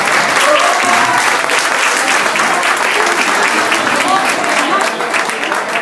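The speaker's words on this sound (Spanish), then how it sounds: "aplausos, aplausos," An audience gives sustained applause at a live shepherds' music performance, a dense, even wash of clapping that stays loud throughout.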